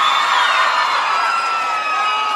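A crowd at a cumbia show in Santa Fe cheers and whoops loudly and continuously, a dense roar of many voices filling the space.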